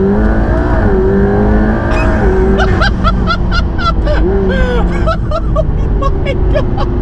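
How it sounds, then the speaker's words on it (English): McLaren P1 in track mode accelerating hard, a loud, close engine note climbing steeply through several quick gear changes, with rising harmonic sweeps that stay forceful and continuous throughout. "that was one of the most violent accelerations I have ever experienced"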